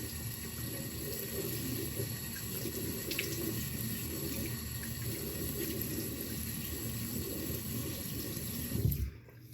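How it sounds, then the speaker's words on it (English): Tap water runs steadily into a sink while a bearded man rinses his face, a continuous splashing flow with a louder burst of splashing just before the water stops. "So I rinse my face off."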